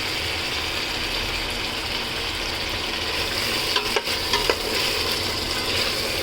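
Vegetable khichuri of mixed lentils, gourd, carrot and pumpkin sizzles steadily in a pot, with a few scraping stirs partway through; close and continuous, no talking.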